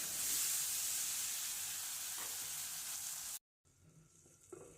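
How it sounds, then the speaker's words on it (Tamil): Steady loud sizzling of green chillies frying in a pan, a continuous hiss that briefly cuts out, then returns quieter with a faint stir as they cook covered on low flame. "நல்ல கிளறி கொடுத்து லோ ஃப்ளேமில் மூடி வச்சு வதங்க விடணும்."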